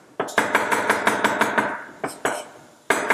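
A knife chopping garlic finely on a cutting board for a Hungarian yellow pea soup, a close run of quick, sharp, evenly spaced knocks, then a pause and a few more strokes, with no talk.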